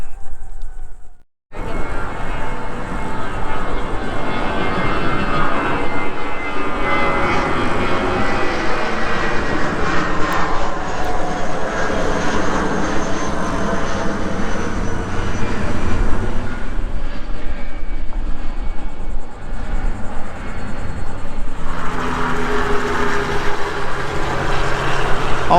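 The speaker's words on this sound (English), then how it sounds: "Also, the helicopters come this way." A fixed-wing aircraft passes overhead along the flight path near a Myrtle Beach oceanfront construction site, a steady loud engine drone filling the whole stretch and swelling slightly as it goes by.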